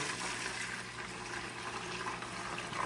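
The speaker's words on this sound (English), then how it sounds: "we're just gonna slowly pour it through" Homemade smoky chicken stock poured slowly from a heavy pot through two strainers, a steady soft liquid rush that runs unbroken throughout.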